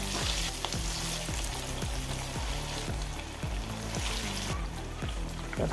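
Chicken sizzles and crackles steadily in hot oil with curry leaves, a dense, close frying hiss with regular stirring scrapes throughout and no talking.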